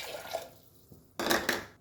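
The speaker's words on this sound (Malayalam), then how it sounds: "3 കപ്പ് വെള്ളം ഒഴിക്കാം." Water is poured from a cup into a pressure cooker while making sadya-style sambar, heard as a short, close splashing gush near the end after a quieter kitchen lead-in.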